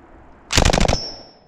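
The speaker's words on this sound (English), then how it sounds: "shooting the Thompson" A Thompson submachine gun fires a short, loud burst of about six rapid shots at targets on a shooting range, with a brief ringing tail afterward and no talking.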